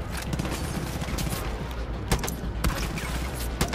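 A few sharp sniper rifle shots crack out in Far Cry, spaced over a steady background of game ambience and music.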